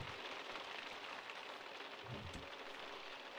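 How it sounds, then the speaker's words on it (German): Hail falling in The Sims 2 video game, a dense steady hiss of pellets pattering on surfaces, continuous and fairly soft, with no talking. "jetzt darfst du raus in den Hagel"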